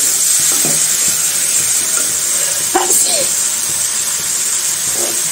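Dal with tomato sizzles steadily in a pan as it is sautéed, a constant bright hiss with a few scraping stirs and brief clinks over it.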